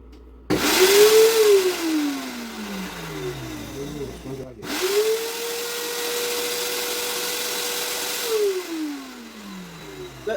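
A blender whirs through basil pesto with garlic in two long bursts, pitch climbing as each run starts and sinking as it winds down, loud and steady with a short pause between runs.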